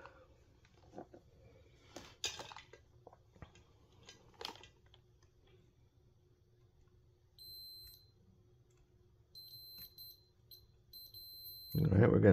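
A multimeter in continuity mode gives a series of short, thin, high electronic beeps, clustered in brief bursts as probes touch a cracked Colecovision power supply board, with faint clicks and handling noise and louder rustling at the end.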